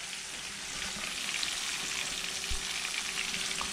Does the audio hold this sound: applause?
no